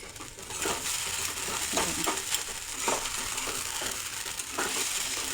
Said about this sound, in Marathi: खिचडी वारंवार जरा परतत राहायचं म्हणजे खिचडी चिपकत पण नाही खाली